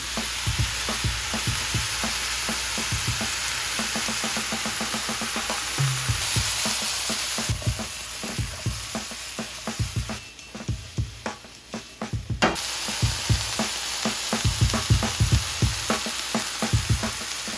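Mushrooms and rosemary sizzle steadily in a hot pan, with repeated close stirring scrapes and clatters breaking through the continuous frying hiss.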